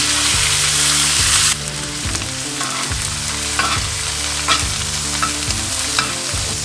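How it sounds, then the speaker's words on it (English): Wagyu steaks sear in a cast iron skillet while being basted with a spoon, a loud hissing sizzle with repeated rhythmic spoon scrapes and splashes, the pan tilted to one side, no speech. "I put the pan on one side, and I start basting. And I basically do this, and I flip the steaks every minute."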